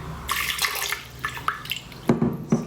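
Half a cup of water is poured into a pot of carrot soup, making splashy bursts and gurgles with a few separate sloshes and drips toward the end, close and clear.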